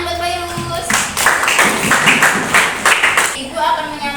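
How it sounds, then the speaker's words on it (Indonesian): A short burst of classroom applause for a student breaks out between spoken sentences, clapping lasting a couple of seconds with voices before and after it. "tepuk tangan buat Fairuz"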